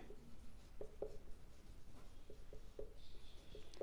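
A teacher writes on a board during a class 8 maths lesson on the area of a circle, producing soft irregular taps and scratchy strokes, faint and close, with no talking.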